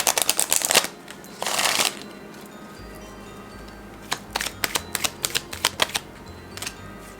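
Tarot cards shuffled by hand in a reading, with two bursts of riffling early on followed by a series of crisp separate card snaps and flips, close and fairly loud, with no talking.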